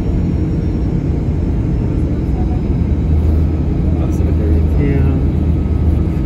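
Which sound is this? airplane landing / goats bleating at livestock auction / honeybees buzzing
airplane landing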